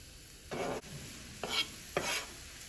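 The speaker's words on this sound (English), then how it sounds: "We're going to saute our eggplant on high heat until they're nice and caramelized." Eggplant sautés in olive oil in a pan over high heat, with a soft steady sizzle broken by three short stirring scrapes. The sound is close but quiet, and nobody talks.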